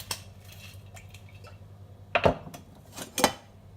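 A hot pan with a little oil is handled on a stove, with a few sharp metallic clanks and knocks of cookware, two louder ones near the end, over a quiet background.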